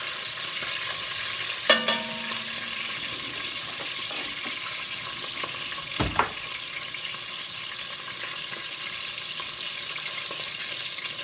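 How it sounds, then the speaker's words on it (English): Pot roast meat searing in hot oil, a steady close sizzle throughout with a couple of brief clanks of a pan or utensil; no voices. "So you sear it just to, kind of sear in the juices so the juices doesn't come out."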